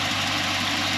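A Chevrolet SS V8 idles steadily with a deep, even rumble, close and continuous with no voices over it.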